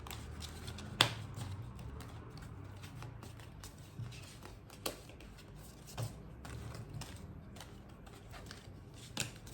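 Tarot cards are shuffled and drawn by hand during a spiritual reading. Faint, close papery riffles and soft flicks come and go, with a few sharp snaps spread across the stretch and no talk.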